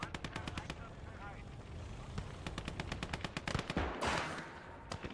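Tank battle gunfire on the Nevel map in the World War II game Gates of Hell crackles in rapid, dense bursts, with sharp repeated shots and a heavier blast near the end over constant battlefield rumble.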